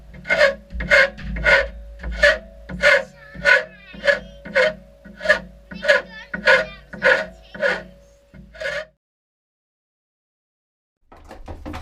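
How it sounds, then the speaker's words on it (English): Rhythmic rasping strokes of sandpaper on a wooden boat platform, about a dozen even back-and-forth passes, close and fairly loud, then a pause before scraping resumes. "So I'm finally finished sanding it all down."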